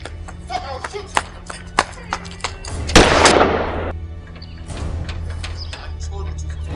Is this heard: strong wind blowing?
no